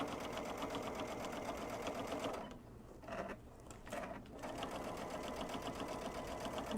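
A sewing machine stitches a kids' mood pillow with a close, steady mechanical chugging that runs throughout, pausing briefly midway before resuming at the same even pace, with no talk.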